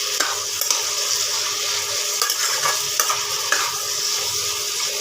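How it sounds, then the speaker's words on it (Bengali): Mixed vegetables with cumin powder frying in a pan for a light Bengali curry, a steady close hiss of sizzling under repeated scraping stirs and occasional spoon clicks against the pan, with no talking. "এবার একসাথে এটাকে ভাজা করে লাস্টে জল দেবো।"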